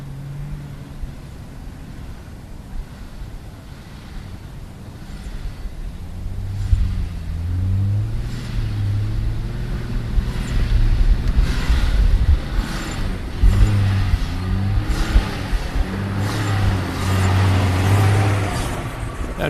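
An INEOS Grenadier Trialmaster 4x4 drives off-road with a steady, close engine rumble that swells into throttle surges and revving, with no talk.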